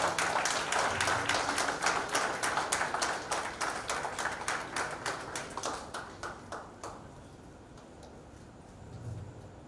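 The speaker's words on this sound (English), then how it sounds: "honor them with a great round of applause once again, sir." Audience applause at a silver jubilee celebration for an engineering class, a rhythmic, synchronized clapping that gradually thins out and stops near the end.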